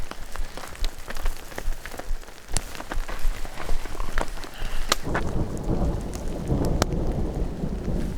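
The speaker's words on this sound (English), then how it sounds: "The rain begins again." Rain patters down on a backpacking camp while thunder rumbles and cracks, first scattered drops and sharp claps, then a heavier steady downpour with rolling low thunder for the last few seconds.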